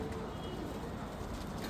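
Red Zalfinat pigeon chicks, with coloured tails and shoulders, cooing softly and continuously amid a steady low background murmur, faint and fairly close, with no talk.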